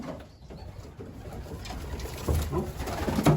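Racing pigeons, young birds out for their first fly, give soft low coos close by over a rustling outdoor background, with a few louder murmurs toward the end.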